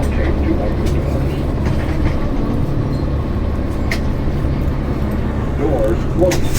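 A New York subway D train crosses the Manhattan Bridge with a continuous heavy rumble, rattling and a few brief wheel squeals near the end, heard from inside the car.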